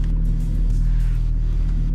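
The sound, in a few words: BMW 525 TDS car engine idling while warming up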